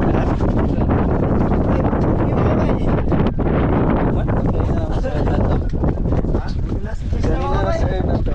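Wind roaring across the microphone on a private island, a loud continuous gusty rumble with voices talking over it.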